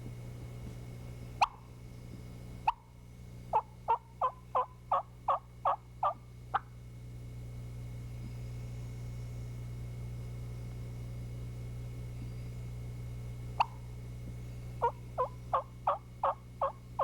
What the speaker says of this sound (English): we're talking a lot about aggressive hen yelping